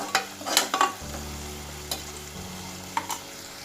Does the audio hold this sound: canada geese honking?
no